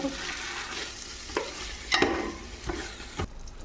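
A spoon stirs food in a cooking pan over low frying sizzle, with four or five distinct scraping strokes spaced irregularly, close and moderately loud.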